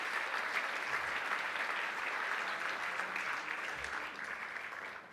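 Big round of applause at a 2008 ethnic business awards gala dinner for the medium to large business category finalists, dense, even clapping from a large room that fades slightly at the end.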